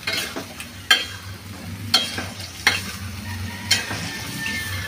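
Spatula scrapes and clacks in a hot pan while potatoes and beans stir-fry, and pumpkin and leafy greens are added. A steady sizzle runs underneath, and sharp stirring strikes come about once a second.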